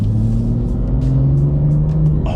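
A BMW F87 M2 with a manual transmission pulls hard under acceleration, its engine drone rising steadily in pitch, loud and close from inside the cabin with no talk over it.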